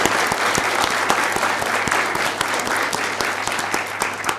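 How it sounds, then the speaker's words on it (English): A room at a board of commissioners meeting applauds a middle school cheerleading team, with sustained dense clapping from many hands and a few sharper individual claps standing out. "let's give them a round of applause"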